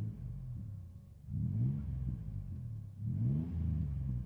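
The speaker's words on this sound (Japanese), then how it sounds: "いつものように軽く空ぶかしてみます" A 2002 Chevrolet Astro LS 2WD van engine revs twice in neutral in short bursts, rising and falling back to a low idle rumble between them, close by with no talking.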